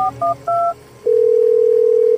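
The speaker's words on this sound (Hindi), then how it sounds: "उन्होंने फोन निकालकर कॉल करने की कोशिश की" A phone keypad dials to attempt a call: three short, loud two-tone beeps sound in quick succession, then one long steady tone holds.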